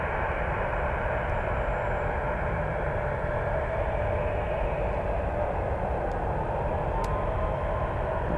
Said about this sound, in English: That's the Frankfurt flight.